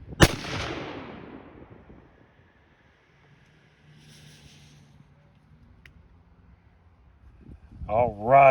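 One loud rifle shot at an outdoor range aimed at a target over 125 yards away, a sharp crack trailing into a rumbling echo that fades over a couple of seconds, then quiet with faint distant noise.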